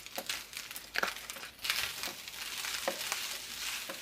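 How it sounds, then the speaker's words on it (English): Eggs fry in an oily garlic sauce with a steady sizzle and crackle, broken by scraping stir strokes, close up and without talk. "I'm frying up eggs and heating up chicken and pita and rice and cooking it all in oily garlic sauce"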